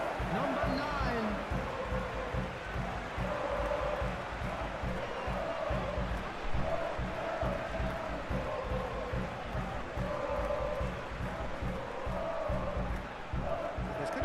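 A football stadium crowd applauding and cheering a substituted player in a football match, a broad steady roar with rhythmic clapping heard at a distance beneath commentators talking.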